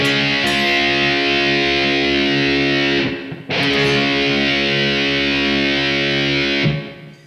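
A heavily distorted electric guitar chord rings out loud and sustained, cut off briefly midway, then struck again and held.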